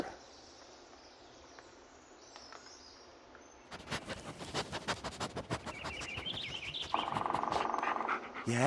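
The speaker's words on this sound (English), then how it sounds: "Yeah, good dog." A dog pants in the Blair Witch video game, rhythmic breathy huffs starting partway through over a low ambient forest hum with faint bird-like chirps, growing steadier and louder toward the end.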